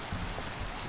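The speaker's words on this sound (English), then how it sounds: "I like to be inside, be indoors when it rains in Minecraft." Steady rain in Minecraft, a dense, even hiss of falling drops that stays constant throughout the short stretch, with no voices or other sounds over it.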